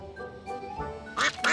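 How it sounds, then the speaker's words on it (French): A cartoon duck quacks a few times in an animated Thomas scene, brief nasal calls rising at the end over quiet background music. "Regarde, il y a un canard qui se promène."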